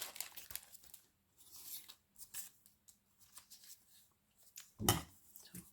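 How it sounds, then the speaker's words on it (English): Scissors fussy-cut around a paper butterfly for a craft cluster: quiet, intermittent snips and papery crinkles close by, irregular in rhythm, ending in one sharper, louder rustle. "So I'm just going to fussy cut around this butterfly"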